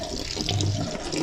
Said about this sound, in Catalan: L'aigüera li passarem aigua